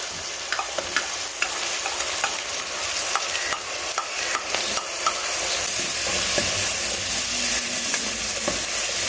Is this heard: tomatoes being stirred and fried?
yes